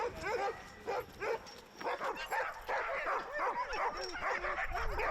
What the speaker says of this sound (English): when they start barking before we take a team out